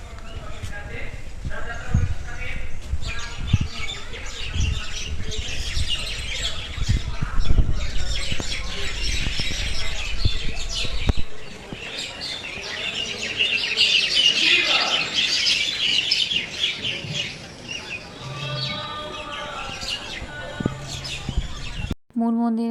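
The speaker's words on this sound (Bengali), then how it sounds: "এই শ্যামকুণ্ড ধরে সামনে এগোনোর পরে আমি শুনলাম অনেকগুলো পাখির আওয়াজ" Many birds chirping near a temple tank at Shyamkund, a dense, continuous chatter of calls under loud voices and bustle, with clopping sounds and other crowd noise mixed in.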